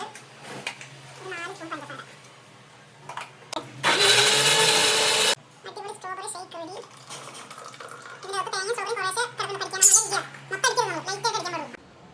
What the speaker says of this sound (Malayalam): അതെല്ലാം കൂടി ചേർത്ത് മിക്സിയിലിട്ടടിച്ച്